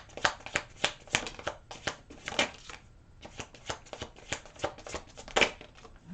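Tarot cards are shuffled by hand for a reading, a close series of crisp riffling bursts in an irregular rhythm with brief pauses between, and no talking.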